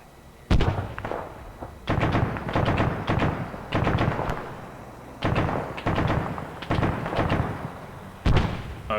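Combat in the Arma 3 video game brings a series of loud, sharp blasts and bursts in irregular clusters, each ending in a short rumbling decay, with quieter gaps between volleys.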